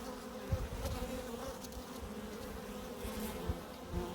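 Cape honey bees swarm the entrance of a Capensis-infested colony in a steady, close buzz. Individual bees flying past the microphone give brief louder thumps and swells.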